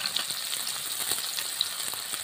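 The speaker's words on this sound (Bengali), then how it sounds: "এবার আমি দিয়ে দিচ্ছি কড়াইয়ে টমেটো কুচি, এবার দিয়ে দিচ্ছি পেঁয়াজ কুচি, দিয়ে দিচ্ছি কাঁচা লঙ্কা কুচি" Chopped tomato, onion and green chilli fry in a wok with a continuous, moderately loud sizzle full of fine crackles and small pops, with no talking.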